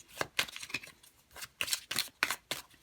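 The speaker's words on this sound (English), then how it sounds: "I forgot to shuffle for these oracle cards in your stack. So I am going to do that now." Oracle cards being shuffled by hand: a run of quick, crisp papery riffles and slaps in uneven bursts, close and fairly quiet, with no talking.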